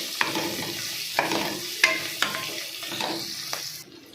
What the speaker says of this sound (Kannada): ಇದರಲ್ಲಿ ಸ್ವಲ್ಪ ಗೋಡಂಬಿ, 2 ಬಾಡಿಗೆ ಮೆಣಸಿನ್ಕಾಯಿ ಹಾಕೊಂಡು ಚೆನ್ನಾಗಿ ಫ್ರೈ ಮಾಡ್ಕೋಬೇಕು.